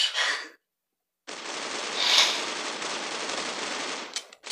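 Gunfire in the video game Critical Ops, a sustained rapid automatic burst after a short opening spray, loud and dense, ending in a few scattered shots.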